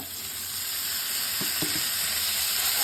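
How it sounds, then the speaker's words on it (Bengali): A ground paste of cumin, ginger, green chilli, garlic and onion fries in a kadai with a steady, close, even sizzle, broken by two brief stirring knocks midway. "মশলাটাকে আমি এখন এটাকে ভালো মতন ভেজে নেব।"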